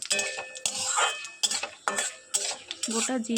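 A metal spoon scrapes and clinks against a pan as whole cumin seeds are stirred in hot oil for a fig curry, with a soft sizzle between close, uneven strokes.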